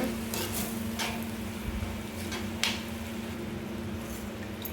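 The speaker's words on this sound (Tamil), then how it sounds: "இது நல்லா கிளறி விடுங்க." A spoon scrapes and stirs through thick broad bean (avarakkai) curry with chili powder in a pan, with occasional soft clinks over a faint sizzle.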